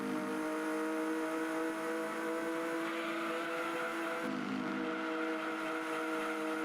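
A Lotus Europa engine in the racing game Gran Turismo 2 drones with a steady tonal whine, briefly dropping in pitch as if shifting gear before climbing again, moderately quiet with no talk.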